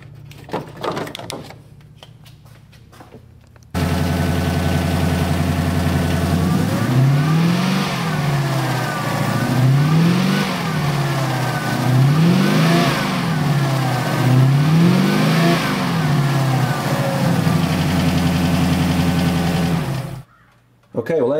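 Car engine idling steadily with the supercharger idler bracket fitted and the drive belt removed, a loud even mechanical drone with a rhythmic pulsing whine, starting abruptly after a few seconds of quiet and cutting off near the end.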